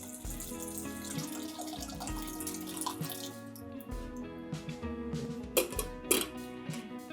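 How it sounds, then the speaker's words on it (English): Two cups of water pour steadily into a pot for spinach lentil soup, a gurgling stream with a few clinks of metal near the end, no voices. "Add in 2 cups of water."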